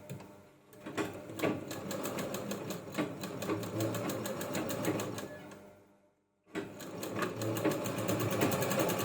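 A sewing machine runs steadily, stitching along the edge of a sari blouse piece being made into a bag, with a rapid mechanical rattle that cuts out briefly near the end and then resumes.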